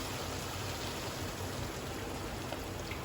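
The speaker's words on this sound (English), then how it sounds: "I'll add in around half a cup of water." About half a cup of water is poured into a pot of homemade chicken dum biryani seasoned with kasuri methi, giving a steady, close splashing hiss that lasts throughout.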